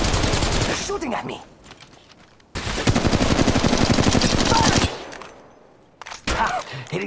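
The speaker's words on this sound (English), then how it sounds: "They're shooting at me!" Rapid automatic gunfire in the mobile battle royale game Apex Legends Mobile, loud bursts of repeated shots, a long dense volley in the middle and another short burst at the end.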